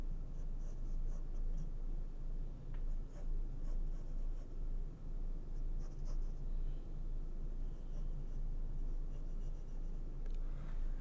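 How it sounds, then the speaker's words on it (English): A pen, following earlier pencil lines, sketches on paper in close, faint, continuous scratching with short strokes and brief pauses over a low steady background hum, with no talk. "Now I started sketching"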